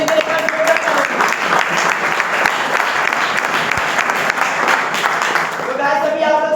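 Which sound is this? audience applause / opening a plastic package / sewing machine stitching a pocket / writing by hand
audience applause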